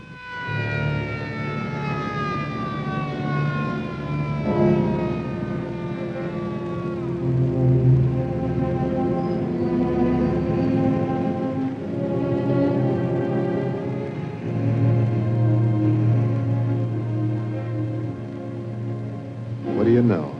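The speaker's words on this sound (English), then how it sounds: "What do you know? Brand new ambulance." A loud wailing siren from a new ambulance rises and falls steadily, sustained close by throughout with a low engine rumble underneath.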